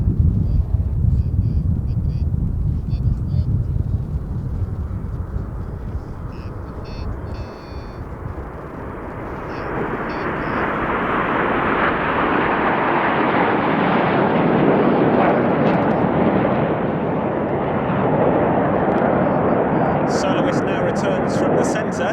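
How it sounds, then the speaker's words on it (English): Frecce Tricolori jet display team performing the tricolour Sparks bomb burst at an air show: a loud, sustained jet roar that swells and spreads out in the middle, with steady broadband rush and wind buffeting throughout. "this is the tricolour Sparks, a spectacular bomb burst added to mark the team's 55th anniversary"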